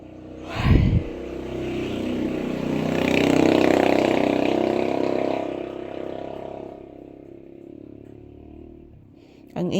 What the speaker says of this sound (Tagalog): Ang ingay ng motorsiklo na dumadaan